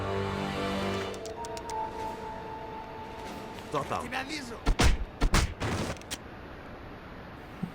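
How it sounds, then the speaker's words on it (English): Perforator rifle fire in the video game CounterSpy: a handful of heavy, thudding shots in quick succession in the latter half, over a steady game backdrop with tonal hums. "Perforator rifle."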